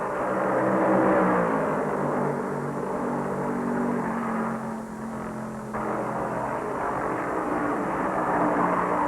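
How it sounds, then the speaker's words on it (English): 1970 NASCAR Grand National stock cars, including a Mercury and a Ford, racing at Darlington Raceway in the Southern 500, a loud, continuous engine roar that swells and dips as cars pass near at over 150 mph. "Cale's Mercury leads the race."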